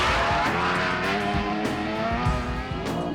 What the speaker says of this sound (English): With trucks and buggies tearing through the brutal desert terrain